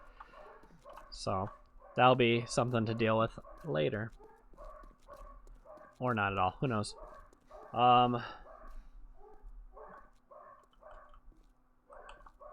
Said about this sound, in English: that is my dogs barking because it's almost 7 o'clock